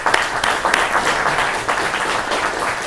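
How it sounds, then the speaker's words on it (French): An audience at a public talk on ecological digital technology applauds a speaker with sustained, fairly close clapping that swells and dips slightly and carries on steadily to the end. "on peut l'applaudir."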